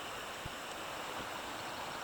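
Creek water flowing on a rainy June day, a steady, broad rushing wash that holds constant at moderate level with no voices.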